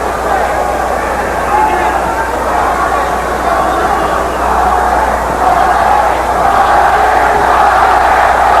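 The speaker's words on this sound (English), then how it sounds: "Crowd chanting, Jorge, Jorge, Jorge." A boxing arena crowd at a WBO lightweight title fight chants in support of Jorge Paez, a loud, sustained roar of many voices with speech audible over the din.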